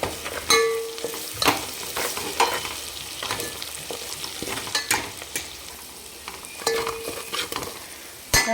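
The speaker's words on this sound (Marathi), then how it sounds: "आणि एक चमचा बेडगी मिरची पावडर आहे ती टाकू आपण छान तळून घ्यायची" Spoonful of Byadgi chili powder with black masala and turmeric frying in oil, a low sizzle punctuated by repeated sharp clinks and scrapes of a spoon against the pan, close by and wordless.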